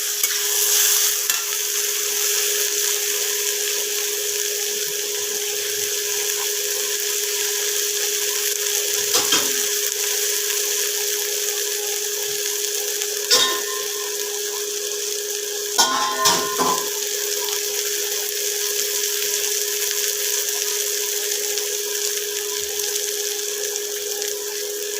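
A spoon stirs ground coriander, cumin, turmeric and garam masala with a little water into a spice batter in a home kitchen. A steady low hiss runs throughout, broken by a few sharp scrapes and clinks, with no talk.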